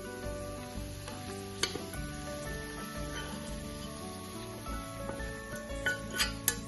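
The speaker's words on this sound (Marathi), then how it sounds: "फोडणी तयार झालेली फोडणी मी या भाजीवरती टाकते" Hot spiced oil tempering sizzles as it is poured over spinach dal, Karnataka-style mudda bhaji, with a steady crackling hiss, close and bright, and a few sharper pops and spatters.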